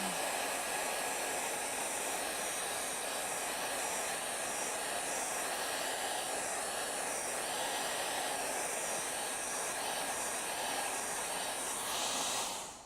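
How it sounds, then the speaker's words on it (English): A hair dryer runs continuously at steady volume while drying a watercolour painting on paper, giving a constant breathy whirr with a faintly wavering tone before it cuts off abruptly at the end. "when you're drying, just keep the dryer a little bit away from the paper"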